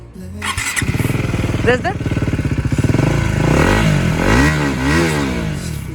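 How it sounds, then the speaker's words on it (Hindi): A KTM RC 390 motorcycle with its dB killer removed starts and revs repeatedly, a loud, close, rasping exhaust rising and falling in sharp bursts, with someone talking over it. "तो ये हो गया RC390 का एग्जॉस्ट विदाउट DB कलर।"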